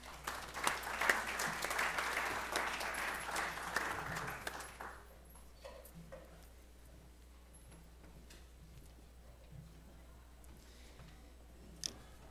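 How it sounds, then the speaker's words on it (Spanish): An audience at an evening criminal law conference applauds for several seconds. The clapping is moderately loud, then fades into a quiet room with scattered faint noises. "a quien recibimos con un fuerte aplauso"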